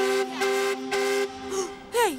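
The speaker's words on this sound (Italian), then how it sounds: "Ehi, avete sentito il fischio?" Cartoon train sounding its whistle, several sustained tuneful toots in a row, bright and loud, with a final sliding, wavering note.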